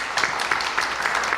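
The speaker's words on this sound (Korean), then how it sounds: "우리 박수로 우리 환영하도록 하겠습니다" Audience applause at a pastors' forum, welcoming a visiting professor before a lecture, heard as a steady, dense wash of many hands clapping at a moderate distance for a short stretch, with no voices over it.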